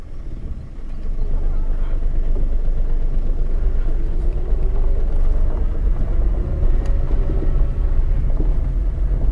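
A car engine idling and rumbling steadily while a learner driver backs up in reverse, close and fairly loud throughout, with faint wind noise and some talk in the background.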